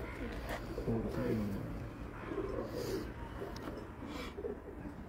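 Pigeons coo in soft, rolling phrases from a rooftop, set against a steady low hum and background noise.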